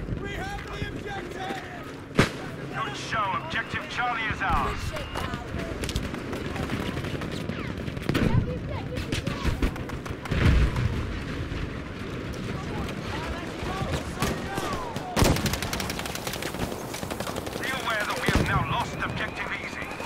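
Battlefield V video game gunfire: bursts of rifle and machine-gun fire with scattered sharp shots and heavier distant blasts, dense and continuous, mixed with a voice talking over the action.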